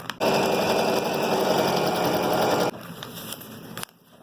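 A sewing machine stitches the folded long edge of a fabric hammock, a steady close mechanical whir running for about two and a half seconds, then stopping with a few faint clicks and handling sounds.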